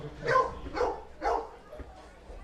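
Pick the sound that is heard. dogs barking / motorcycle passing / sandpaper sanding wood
dogs barking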